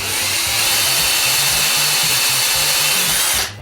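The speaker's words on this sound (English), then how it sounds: "I really like these tools, these Ryobi tools." A Ryobi power tool, most likely a drill, runs loud and close in one continuous steady whine for a few seconds before winding down, used while making a homemade nail remover.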